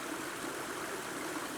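Cascading stream water in Borrowdale in the Lake District in autumn, a steady, full rushing and splashing flow, close and constant, alone without voices.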